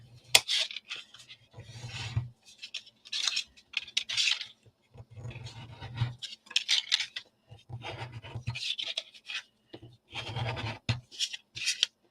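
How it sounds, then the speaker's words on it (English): Burnishing a craft surface by hand, repeated rasping rubbing strokes in irregular bursts with short pauses, close and fairly quiet, with no voices. "I'm just going to burnish"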